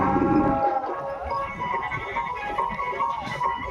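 A cow or bullock gives a short low moo near the start at a busy village cattle fair near Bijapur, where villagers arrive with bullock carts; a steady crowd murmur continues underneath.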